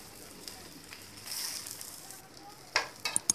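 Onion uttapam frying on a pan, a soft steady sizzle that swells briefly, then a few sharp clinks and scrapes near the end.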